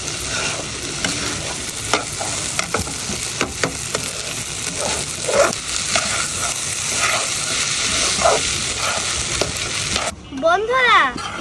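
Fried rice stirred in a frying pan: a steady close sizzle with repeated scraping strokes of the spatula throughout, no talking, and a brief whistling sound near the end.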